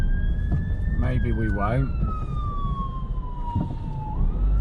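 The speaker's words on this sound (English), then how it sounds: "I can hear a siren" A wailing emergency vehicle siren sweeps slowly in pitch through town traffic, heard from inside a car at moderate distance, steady under engine and road rumble while a person briefly speaks.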